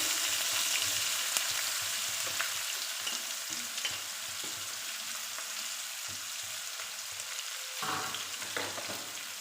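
Onions frying in a pan with cumin while a sea-fish and pumpkin dish is cooked, giving a steady, close sizzle and hiss that continues throughout, with a few faint stirring scrapes and no talking.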